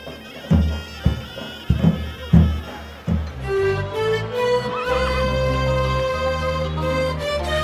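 Several sharp hoofbeats of horses in a village wedding procession in Macedonia ring out, then music with drums and flutes plays steadily, the horse sounds fading beneath it.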